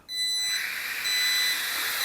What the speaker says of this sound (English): I can hear it beeping for headless mode.